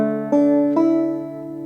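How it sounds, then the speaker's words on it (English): Banjo strings are strummed one after another in order, giving two quick plucked attacks that blend into a bright, ringing open chord, close and alone, which decays slowly. "So when you strum the strings of the banjo in order, it sounds like this."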